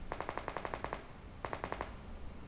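Automatic gunfire in a shooter video game, two rapid bursts of evenly spaced shots, about eight then five, quiet and mechanical with a short gap between them and no talking.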